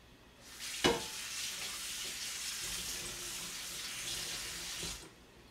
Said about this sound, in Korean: 물에 한번 헹궈가지고